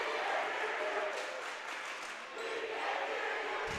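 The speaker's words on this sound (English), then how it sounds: "Student sections finally battling with each other" High school volleyball student sections cheer and yell back and forth in a gym, a loud continuous crowd roar with shouted chants throughout, briefly dipping before surging again.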